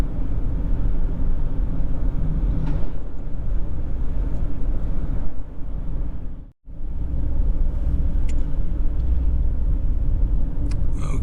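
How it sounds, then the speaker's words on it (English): A big truck passes on a rural road through farmland, a steady broad rumble that swells and fills the scene, briefly dipping before the roar returns, with no talking. "comes another big truck."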